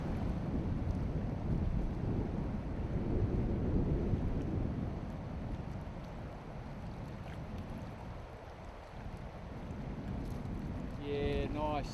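Wind gusting across a New Zealand river, buffeting the microphone with a steady low rumble that swells and eases, while faint chirping tones rise briefly near the end.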